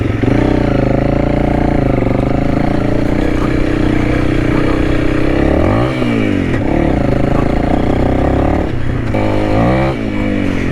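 Honda CRF300L dual-sport motorcycle being ridden, a loud close single-cylinder engine droning steadily with rising and falling revs and brief throttle changes throughout.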